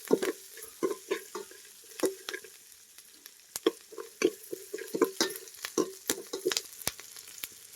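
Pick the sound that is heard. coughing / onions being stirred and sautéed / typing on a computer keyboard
onions being stirred and sautéed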